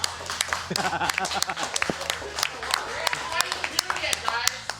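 An esports audience claps at a Super Smash Bros. Melee player interview, with scattered, uneven clapping throughout, while people talk and chatter close by.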